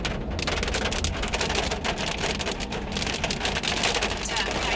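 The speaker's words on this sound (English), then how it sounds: "today it's cooler because it's raining" Steady rain patters densely on surfaces outdoors in Pakistan, a loud continuous hiss with fine droplet texture and no talk over it.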